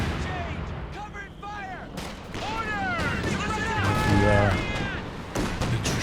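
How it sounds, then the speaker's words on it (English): Artillery barrage shelling in Company of Heroes 2, a run of heavy booming impacts and gunfire that builds toward the middle, under a commentator's steady talk and the game's battle din. "Extra shells on this barrage."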